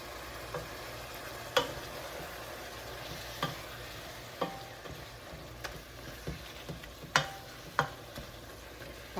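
Meat substitute standing in for ground beef sizzles in a pan while being browned for sloppy joes, a steady frying hiss with sharp scrape-like clicks from stirring recurring every second or so, no talking.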